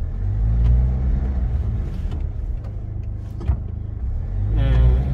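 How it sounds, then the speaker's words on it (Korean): A car sits idling under a low engine rumble while a dull clunk comes from its underbody as the brake is released, a single short knock near the middle amid faint car noise. "이게 지금 현재 우리가 브레이크를 밟았다 놓을 때 뚝 그러네요."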